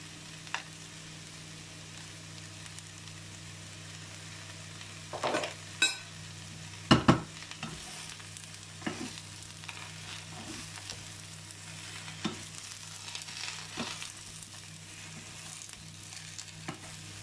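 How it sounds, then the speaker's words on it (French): Garlic heats in a hot pan with a quiet, continuous sizzle. A few louder clinks and scrapes of a utensil cluster near the middle, and faint crackles follow. "Ça c'est l'ail qui chauffe."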